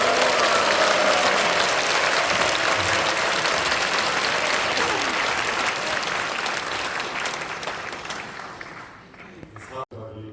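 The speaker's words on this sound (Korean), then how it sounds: "큰 박수 부탁드립니다." Audience applause fills a Korean church gathering, a prayer meeting held over a Christian schools statement, as a dense, steady wash of clapping that tapers off near the end, with faint crowd murmur underneath.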